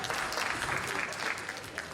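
Audience applause at a business sales masterclass, a brief dense wash of many hands clapping together, fairly faint and steady throughout.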